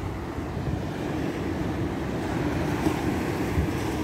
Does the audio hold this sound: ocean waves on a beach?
yes